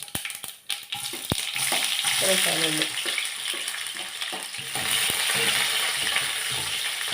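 Steady loud sizzling of onion, ginger and garlic frying in hot oil after mustard seeds pop, with occasional stirring scrapes and a few brief spoken words over it.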